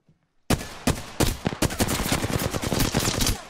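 Apex Legends gunfire bursts in after a brief silence, a rapid string of sharp cracks and automatic rattles, fairly close and moderately loud, with no talk.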